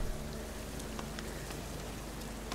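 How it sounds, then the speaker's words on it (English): Heavy rain falls over a swamp in The Witcher 3, a dense, steady hiss of drops on surfaces with no let-up and no voices. "Heavy rain here"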